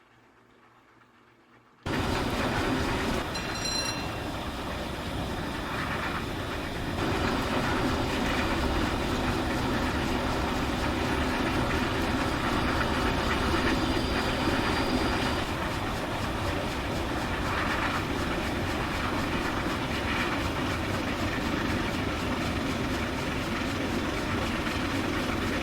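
An A4 Pacific steam locomotive in the Train Simulator Classic game rolls along with a steady, continuous rail and engine roar, its chuffs softened as if heard from a distance. The sound starts abruptly after a brief quiet opening and holds at an even level.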